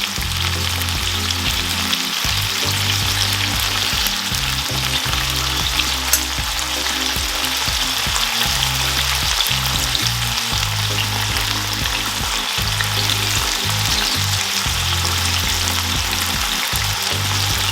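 Dry thyme fries and sizzles in a pan of ackee and saltfish, with a loud, close, continuous crackle and occasional stirring scrapes and no voices.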